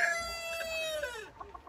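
Petra breed chickens clucking and crowing close by, a rising then falling drawn-out call over about a second, followed by a few short softer clucks.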